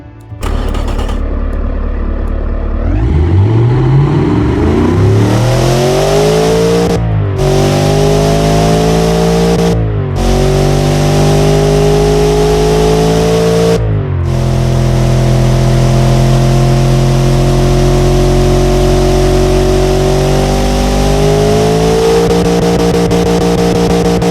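A sport V8 engine in the Automation car-building game revs hard, climbing in pitch through repeated pulls with brief cuts between, then holding a loud sustained drone near its limit.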